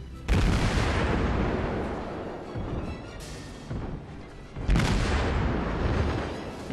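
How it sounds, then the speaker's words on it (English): Naval guns of a warship fire in a World of Warships battle, two heavy booming salvos a few seconds apart, each with a long rumbling tail, loud and close with no talk. "Time to open fire."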